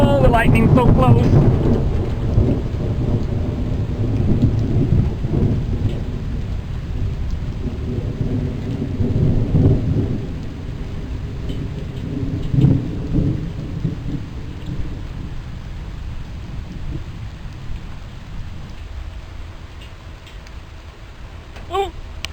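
A thunderstorm on a flooded street brings heavy rain hissing steadily and low rumbling thunder rolling through, with a sharper close crack near the middle and the rain easing toward the end.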